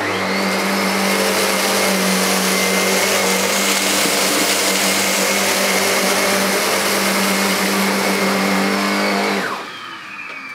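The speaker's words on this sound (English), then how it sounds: "what I'm going to do now is pass it over the area I cleaned with a straight suction nozzle" A Sebo K3 premium cylinder vacuum cleaner fitted with a straight suction nozzle runs loud and close, a steady roaring whoosh with a humming motor tone that holds for about nine seconds and then abruptly drops away.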